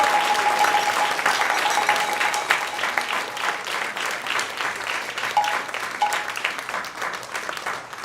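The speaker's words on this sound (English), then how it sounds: "big round of applause to the Garland team" Audience applause at a Rama Navami temple festival evening session, a full round of clapping from a large crowd that is loudest at first, then gradually thins and fades while continuing to the end.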